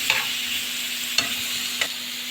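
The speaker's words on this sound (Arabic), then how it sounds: "حطيت البطاطس تاخد لها تشويحتين" Boiled potatoes sautéing with salt, pepper and ginger in a pan sizzle steadily and close, with three sharp scrapes of stirring spaced across the stretch and no voices.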